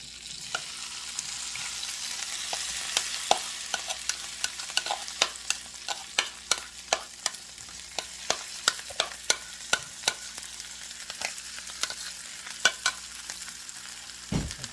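Potatoes frying in a pan with turmeric and chili powder, stirred steadily: a constant close sizzle with a long run of sharp scraping clicks from the utensil, alone without talk.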